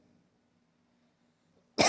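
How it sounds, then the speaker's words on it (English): A single loud, harsh cough bursts out suddenly at the end after near silence. "Not physically, as you can see, I'm coughing"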